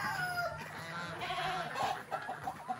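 Chickens cluck in short, busy bursts close by, with other farmyard noise and a steady hiss behind them.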